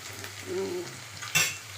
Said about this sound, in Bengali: এটা ভাজা ভাজা হয়ে এসছে, মানে একটু ভাজা হয়েছে